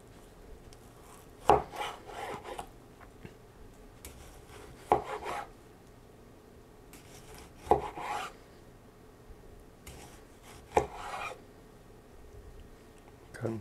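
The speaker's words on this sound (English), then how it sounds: "let's test this out with a nice tomato now. Let's see how well it cuts through this." A Huusk Haarko santoku knife, Japanese stainless steel, slicing through a tomato on a cutting board, giving four short separate cuts, each a soft thump followed by a faint rasp, close and quiet with no voices.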